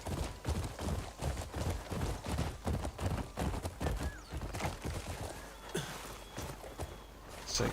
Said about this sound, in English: Just get my horse to run the rest of the way.